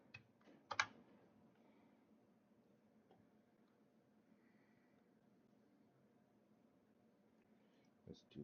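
Faint computer-keyboard clicks: a short burst of keystrokes near the start and another at the end, with near silence and a low hiss in between.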